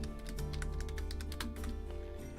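Computer keyboard keys tapped in quick, uneven bursts of clicks over a steady low hum, close and clear, while renaming an item in the zoo-building game Planet Zoo.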